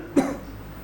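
A man gives one short, sharp cough at close range, and a quiet room hum continues behind it.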